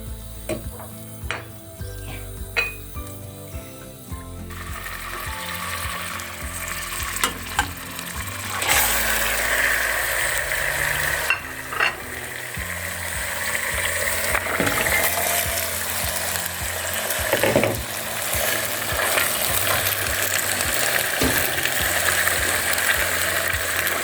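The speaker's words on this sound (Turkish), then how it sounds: "salçalarımı ilave ediyorum" Tomato paste goes into a pot of Kayseri-style holiday stew with meat and chickpeas, sizzling and frying steadily with scraping stirs and clinks of a utensil against the pot, close and continuous.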